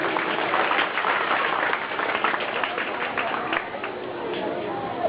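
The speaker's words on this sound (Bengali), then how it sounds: "হাততালি হয়ে যায়।" Applause from a crowd at a Durga Puja ceremony, a sustained, dense patter of many hands clapping at close range with chatter and voices mixed in, steady throughout.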